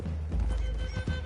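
Red Dead Redemption 2 video game horses: low, rumbling hoof clip-clop and heavy thudding blend with a faint whinny, dense and steady throughout, with no clear speech.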